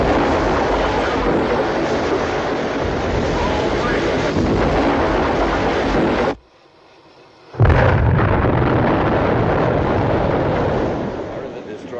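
Warship firing a full pattern in a war movie, loud sustained blasts and rumbling explosions with voices mixed in, broken by a short silence before another heavy burst starts and trails off.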